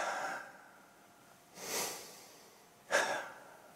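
A person breathes deliberately in a regular, steady rhythm, with three breaths heard as soft, airy hisses spaced about a second and a half apart at close range, with no talking.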